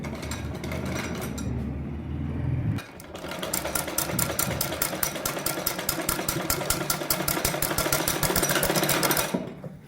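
Domestic sewing machine stitching a shirt neckline: a rapid, even mechanical chatter starts after a short pause and runs steadily at close range until it stops near the end.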